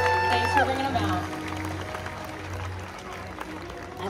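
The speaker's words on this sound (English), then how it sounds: "How about a big round of applause for Iris, Olympus, and their trainers?" An outdoor theme-park animal show audience applauds its bird performers and trainers, moderate clapping beneath lingering music and a loud squawk or call at the start, with some talk mixed in.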